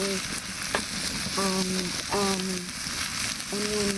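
A breadcrumb, tomato, pepper and onion mixture with curry powder and garam masala fries in a pan for stuffed mushrooms, sizzling steadily throughout while someone speaks over it.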